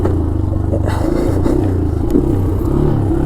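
A 1983 Yamaha Tri-Moto 200 three-wheeler engine runs close and loud with a low, steady rumbling idle and slight revving, along with some clatter and scraping, and no one speaks.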